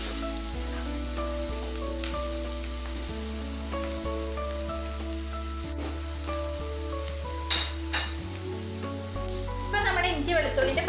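Ginger and garlic sautéing in a pan for butter chicken made without butter give a soft, steady sizzle under background music, with a few stirring scrapes near the end.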